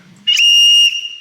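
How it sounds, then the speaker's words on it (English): A single loud, shrill blast from a storm safety whistle, steady for about half a second and then cut off, with a brief breathy start and no talking over it. "So this is a storm safety whistle."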